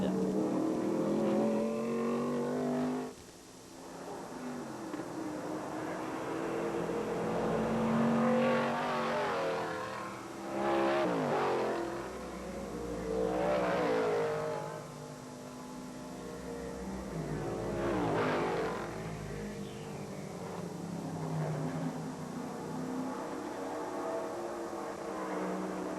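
SCCA GT-1 race cars, including a Ford Mustang, roar around a road course at the 1980 national championship, engines swelling and fading as several cars pass one after another, with loud revving passes over a continuous motor drone.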